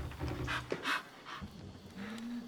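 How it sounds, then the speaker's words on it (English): A dog in the video game Pentiment pants while being petted, a soft, close, rhythmic breathing with faint whimpers, heard alone with no speech over it. "I'm petting the doggo."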